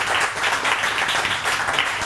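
A studio audience applauds on a live morning talk show, dense steady clapping from many hands, loud and close, filling the whole moment without pause.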